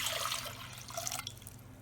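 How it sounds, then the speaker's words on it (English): Water splashes and trickles into a small saucepan for about a second, then stops, leaving quiet dripping; fairly faint and close. "I'm going to start by adding in 3 cups of water into a small saucepan"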